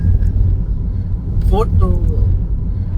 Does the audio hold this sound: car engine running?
yes